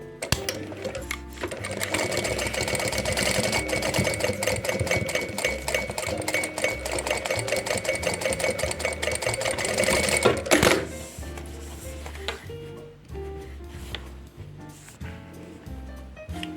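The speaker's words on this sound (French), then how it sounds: "Là, j'ai fait une première piqûre. J'en refais une seconde." A sewing machine runs a long continuous seam on fabric for a windowed pencil case, humming and clattering steadily up close for about ten seconds before stopping abruptly into a quieter room.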